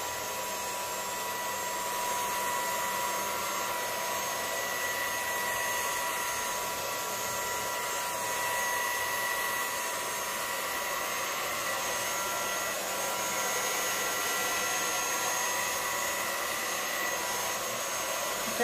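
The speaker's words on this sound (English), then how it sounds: "So what you need is a blow dryer, not a very particular blow dryer." A blow dryer with a concentrating nozzle runs on its low setting to spread acrylic paint in a Dutch pour, producing a steady, even whoosh of air that continues unbroken and fairly close.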